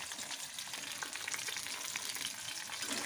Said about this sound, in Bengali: আর এই যে মাছটা ভাজছি।